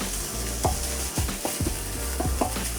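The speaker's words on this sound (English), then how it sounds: "Let's heat a large frying pan with a little vegetable oil." Ground meat fries in a large frying pan with a little vegetable oil for Japanese-style mapo tofu, a close, steady sizzle broken by a few scraping stirs, no voices.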